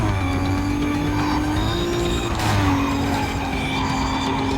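A race car in the video game Need for Speed Carbon accelerates with a loud, sustained engine drone and a rising tire squeal. The sound is continuous and close, with no talk.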